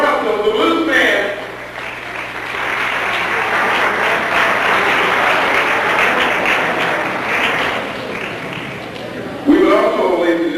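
Audience applause for a blues musician, a sustained wash of clapping lasting several seconds in a hall, with a voice speaking briefly at the start and again at the end.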